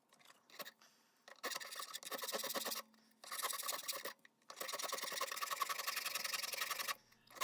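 A fine rasp working a file knife blank on a workbench, in long scraping bursts separated by short pauses, close and fairly loud.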